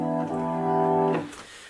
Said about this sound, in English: if you have it, try and switch to an organ sound.